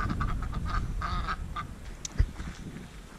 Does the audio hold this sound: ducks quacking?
yes